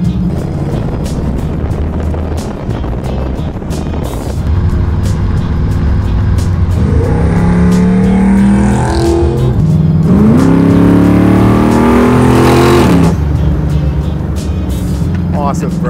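The 700 hp engine of a 1962 Chevy Bel Air Bubble Top restomod growls and revs up loudly while driving, rising and falling in pitch as it accelerates, with people talking over it.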